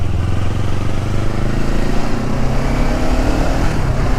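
A Kawasaki Ninja 500 SE twin-cylinder motorcycle engine runs loud and close, a continuous throbbing drone whose pitch slowly climbs as it pulls, with no voices.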